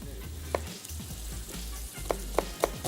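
Garlic browning in a pan for a lamb and rice casserole gives a steady close sizzle, with a few sharp clicks of a utensil against the pan and no voices.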